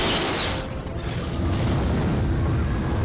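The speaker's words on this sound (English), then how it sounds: "we get a little bit of explosion action." A deep explosion booms at the start, then a dense rumbling roar lingers, like a blast echoing through a loud night-time action scene in the film Dawn of the Dead (2004).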